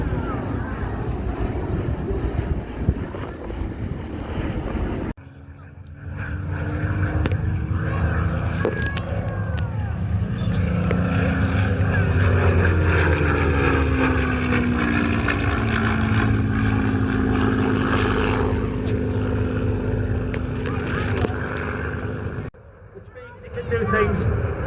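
The four piston engines of the B-17 Flying Fortress Sally B, built by Lockheed Vega in 1945, drone steadily at an airshow, a loud sustained roar with a passing swell, under announcer commentary.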